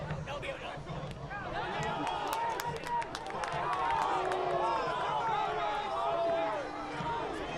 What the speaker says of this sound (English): You can hear the crowd obviously a little annoyed at that goal.